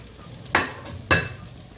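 Water saved from boiling prawns for Bengali chingrir muitha is poured into frying masala in a pan, making two sharp hissing sizzle bursts about half a second apart over a low, steady frying crackle.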